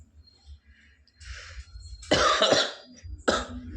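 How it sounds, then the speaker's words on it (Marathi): Someone who is ill coughs close by, a harsh burst after some soft breathy sounds, then another short cough, over low background noise. "खोकला येतो ना भावा बन लय म्हणजे लय खोकला येतो"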